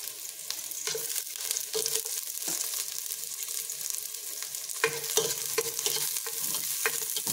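Garlic fries in a pot for a salmon head sinigang, a continuous close sizzle with frequent scraping stirs, steady throughout and no one talking.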